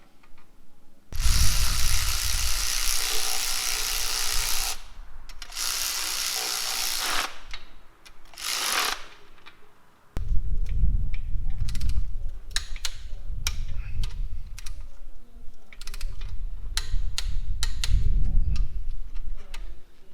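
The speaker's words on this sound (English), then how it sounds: "Torque him up, and then you start it all again." Mechanical ratcheting and clicking while a torque wrench tightens a connecting rod cap during bottom-end assembly of an R31 engine, with loud bursts of noise and a run of sharp ticks toward the end, close up, no talking.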